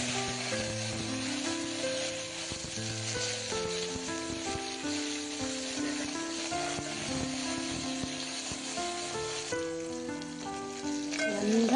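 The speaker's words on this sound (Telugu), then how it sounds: "ఇప్పుడు మనం కట్ చేసి పెట్టుకున్న పచ్చిమిర్చి, కరివేపాకు, ఇంకా కొత్తిమీర ఇవన్నీ వేసేసుకుంటున్నాము." Green chillies, curry leaves and coriander frying in a pan for upma, a dense continuous sizzle and crackle, close and fairly loud, with faint stirring and no talking.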